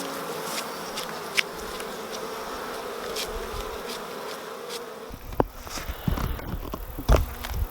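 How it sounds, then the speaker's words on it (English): Honey bees drone around a hive frame in a dense, continuous buzz, close and fairly loud, with a few rustling brush strokes and handling knocks toward the end. "just brush the bees off with the bee brush down to the hive"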